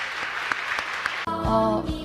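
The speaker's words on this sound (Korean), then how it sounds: "박수로 축하해 주십시오" Church congregation applause celebrating the formation of a spiritual network, a short burst of clapping that gives way abruptly to a sustained musical chord.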